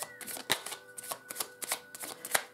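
Tarot cards being shuffled during a private reading: close, crisp riffling and slapping in irregular bursts, each flurry ending in a sharper snap as the deck comes together.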